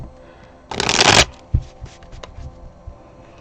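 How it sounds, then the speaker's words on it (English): A quick, dense riffle of shuffling tarot cards, followed by a few soft taps and clicks as the deck settles. No one speaks. "Just want to shuffle these before I move forward."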